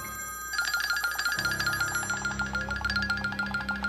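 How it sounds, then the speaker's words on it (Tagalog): A bright electronic telephone ringtone trills in a steady repeating pattern, loud and close, starting after a brief moment of quieter sound. "Ayan na naman yung telepono na yan"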